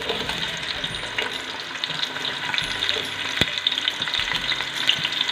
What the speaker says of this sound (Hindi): मैं डाल रही हूँ ये 2 दरमियाने साइज़ के प्याज, जिनके मैंने स्लाइस बिल्कुल बारीक से काट लिए हैं, और ये अब मैं इसमें डाल रही हूँ ऑयल में